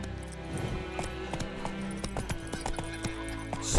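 The horse Roach trotting in The Witcher 3, hooves clip-clopping in a steady, even rhythm close by, with a soft continuous background beneath the hoofbeats.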